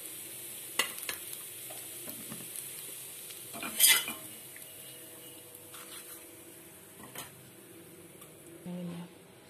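An okra dosa fries on a pan with a soft steady sizzle, while a utensil stirs and scrapes against the pan in a few close clinks and knocks.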